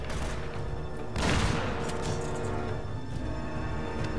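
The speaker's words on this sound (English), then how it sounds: "Yeah, step on that grenade, idiot. What? Are you serious? That blew up right next to him." A grenade blows up in the video game Uncharted: Drake's Fortune, a loud broad burst about a second in, set among continuous gunfire and combat noise.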